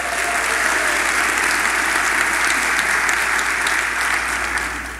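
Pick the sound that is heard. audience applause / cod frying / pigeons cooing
audience applause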